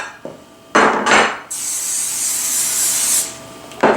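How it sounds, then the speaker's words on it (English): A couple of clunks from pans, then a long hissing burst of cooking spray lasting nearly two seconds, followed by another knock. "you need some type of non-stick cooking spray"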